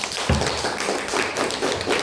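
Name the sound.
class applause for Irsyad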